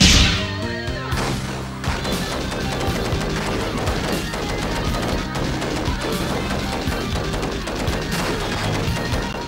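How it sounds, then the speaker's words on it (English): Gunfire and explosions from Judge Dredd or Demolition Man on the Sega Genesis, a loud, dense barrage of rapid shots, crashes and booms played continuously over game music. "Gunfire and explosions rip through my speakers and punch me in the face."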